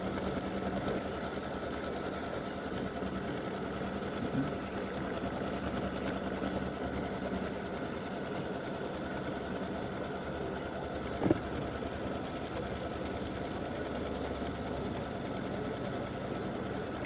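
An embroidery machine stitches an appliqué placement line for an elf legs and bow design on fabric or vinyl. It makes a steady, close mechanical whirr with a fast stitching rhythm and a couple of brief knocks, with no talk.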